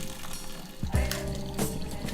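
Boiled pancit noodles strained in a kitchen, with water pouring and splashing in a short burst near the middle, loud against a steady background hiss.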